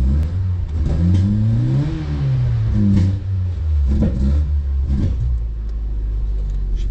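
Volkswagen Golf 3 engine running with a fault, close and loud, a deep rumbling idle whose pitch rises and falls unevenly with surging revs and hunting, never settling into a steady tone.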